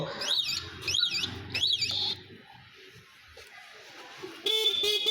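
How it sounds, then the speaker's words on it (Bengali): A Hero Glamour motorcycle horn sounds three short, warbling electronic blasts up close, followed by a quieter pause and then a steadier tone at the end. "হর্ন দেখালাম"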